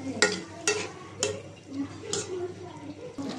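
Washed, cut potatoes fry with spices in a pan while a spatula stirs them in a few sharp, evenly spaced scrapes over a soft sizzle.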